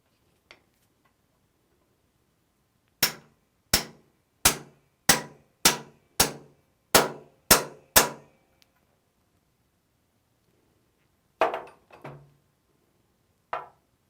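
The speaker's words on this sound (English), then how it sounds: "Now that the pump is installed, it can be driven in with a 3/4 inch socket." A 4L60E transmission filter tube seal is driven in with a 3/4 inch socket: nine evenly spaced metallic hammer clangs ring out close and loud, followed by a few scattered taps.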